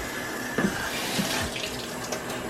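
Tap water runs steadily into a sink while a Scotch bonnet pepper is rinsed, with a few splashy bursts as it hits the pepper.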